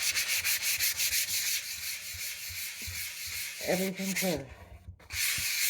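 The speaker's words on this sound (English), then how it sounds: "So you just kind of sand away." Sandpaper rubs steadily across a wooden piece in a continuous rasping stream, close and fairly loud, with a brief voice cutting in near the end.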